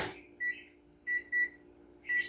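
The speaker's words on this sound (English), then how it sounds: "put it in the microwave for 1 minute" A microwave oven heating tacos gives a steady low hum and then a series of beeps: one, a pair, and another near the end, clear and close.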